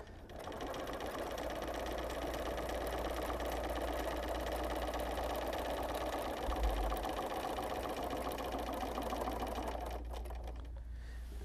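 A sewing machine with a hopping foot runs free motion quilting stitches in a long, steady, close whir for about ten seconds, then stops, leaving a quieter moment at the end.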